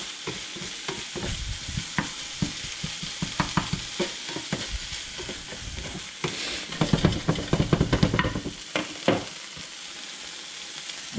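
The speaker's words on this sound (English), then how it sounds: "just mix that around until it's nice and wilted" Greens with garlic are stirred in a hot pan until wilted, giving close scraping stirs over a crackling sizzle, with denser clattering bursts toward the end.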